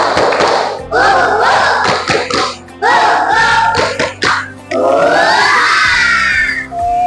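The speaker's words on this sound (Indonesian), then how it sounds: "Coba yuk, tepuk semangat bareng-bareng ya" A class of third-grade children doing a rhythmic spirit clap together: bursts of quick patterned claps and thumps in three phrases, loud and close, with children chanting and shouting along.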